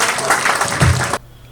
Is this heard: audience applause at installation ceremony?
yes